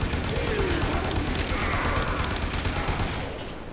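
Rapid gunfire in the sci-fi shooter Warframe, dense continuous shots with mechanical clatter filling the whole stretch, loud and close, under a player's talking.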